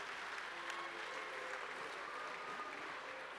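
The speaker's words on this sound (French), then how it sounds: "Merci Marie-Noëlle Lienemann, je vous demande de l'applaudir." Audience applause at a MEDEF summer conference, a steady wash of clapping heard faintly from a distance without a break.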